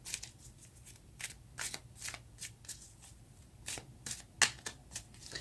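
Tarot cards being shuffled by hand, a quiet close series of crisp riffling bursts and soft flicks in irregular rhythm.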